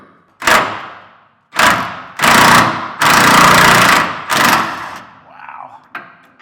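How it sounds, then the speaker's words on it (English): An impact wrench works on rusted front shock bolts of a Ram truck fitted with Rancho RS9000XL shocks, firing five loud, close, hammering bursts of varying length separated by short pauses. "Use the impact on the front."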